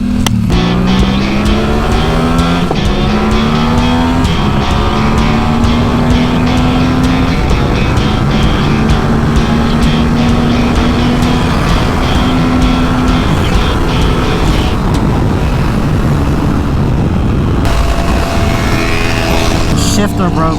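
Yamaha R7 sportbike with clip-ons moved out and GP shift, ridden hard on a race track; the engine howls loud and close, rising through gears in long sweeping pulls with wind roar and a rider's voice.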